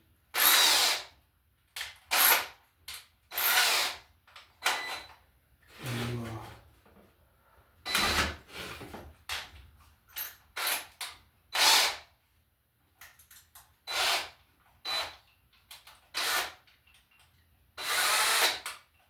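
A power drill bores small screw holes while an emergency exit light is installed in a commercial rental, whirring in about a dozen loud, close bursts of a second or two with short pauses between them.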